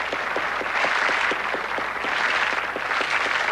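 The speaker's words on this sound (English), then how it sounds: "Give them a round of applause." TV studio audience applause on a 1986 game show: dense, sustained clapping from a full room, fairly loud and even, with no talk over it.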